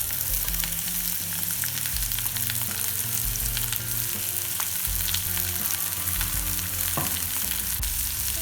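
Chopped onion sizzles in a tablespoon of vegetable oil in a pan for a chicken korma, a steady close crackling hiss with occasional low clunks of the pan and utensil.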